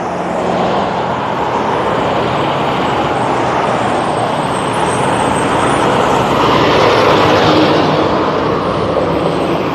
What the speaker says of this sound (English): It's a lot of Canada-based vehicles going up and down.